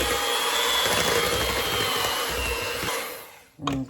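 Electric mixer beating Bundt cake batter with buttermilk for a candied sweet potato cake, a loud steady whirring drone that tapers off near the end, followed by a brief clatter.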